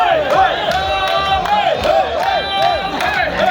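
A large crowd at a team sports event whoops and cheers loudly and continuously, with shouting voices rising and falling over the roar of the crowd.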